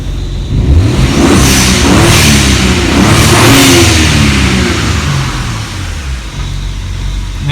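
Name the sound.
car engine starting and revving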